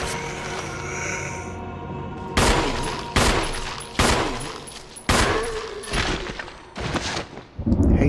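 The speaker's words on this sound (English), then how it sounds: "Hate how these take so many shots." Loud gunshots hit zombies in the 1996 Resident Evil remaster. Several heavy, booming blasts fire at uneven intervals, each one ringing out over a low game ambience.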